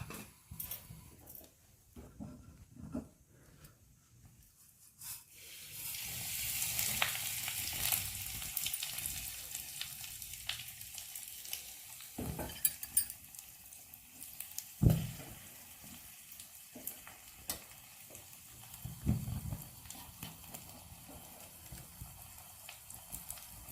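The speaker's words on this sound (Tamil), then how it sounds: "மிளகுலாம் போட்டிருக்கும் போது கொஞ்சம் தெரிக்கும், அதனால கொஞ்சம் பார்த்து வெடிங்க" Spices and pepper tempering in hot oil for rava dosa, a faint hiss that grows into a steady sizzle with scattered pops and spatters, close and quiet, with occasional utensil taps.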